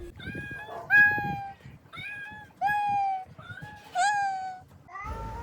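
A cat meows repeatedly at a wedding gathering, with about five distinct rising-and-falling calls spaced roughly a second apart, close and fairly loud over faint background chatter.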